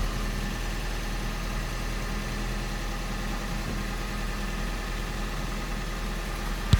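A car engine idles steadily up close, a constant low rumble with no talking, ending in a brief thump.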